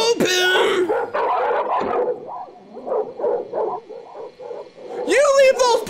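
Dogs bark, yip and whine in short bursts, near and loud, some sounding strained or agitated, with a few high whimpers at the start and end.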